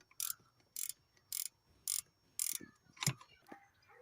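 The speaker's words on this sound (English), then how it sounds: "I'm going to use an 8mm ratchet there, just to get it open" An 8mm swivel-head ratchet turning a bolt on a Mercedes C220 2.1 CDi, six sharp evenly spaced clicking bursts about half a second apart, close and fairly quiet with no talking.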